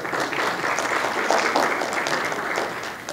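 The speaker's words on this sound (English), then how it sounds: "Another round of applause for them" An audience at a West African regional summit closing ceremony applauds the panelists with dense, steady clapping that runs the whole time and tapers slightly at the end.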